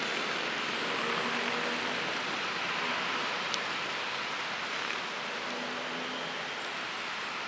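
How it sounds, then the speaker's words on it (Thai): Rain falling steadily across a rooftop garden at Dusit Central Park, a continuous soft hiss of drops filling the whole span with little variation and no voices. "ฝนตกแล้วครับ มีเม็ดฝนลงมาปล่อย ๆแล้วนะครับท่านผู้ชม"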